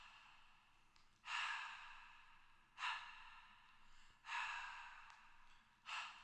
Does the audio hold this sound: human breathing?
yes